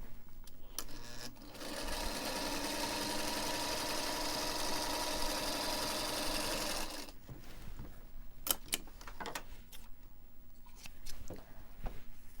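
A sewing machine stitches a seam through denim for a recycled-jeans thread catcher, running steadily for about five seconds, then stopping, followed by quiet handling clicks and taps.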